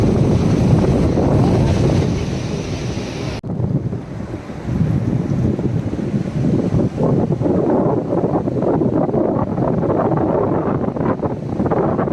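Sea waves wash onto the beach at Mandarmani, with a continuous rushing surf heavily mixed with loud, buffeting wind noise on the microphone and no talk.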